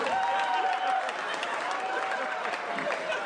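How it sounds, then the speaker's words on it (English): A live comedy podcast audience applauds and roars in a steady, dense wash of clapping and cheering that fills the room without a break, loud and close, with no clear speech over it. "Listen to that crowd roar!"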